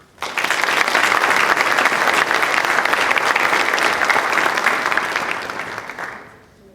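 An audience at a senior recognition awards ceremony applauds a scholarship recipient, loud dense clapping that starts abruptly, holds for about six seconds, then tapers off, with no talk over it.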